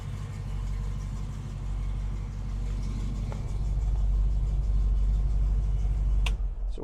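A 1966 Ford Mustang GT fastback with a 289 cubic inch engine idles in a deep, steady rumble, close up and continuous, swelling slightly louder near the end before a brief clunk.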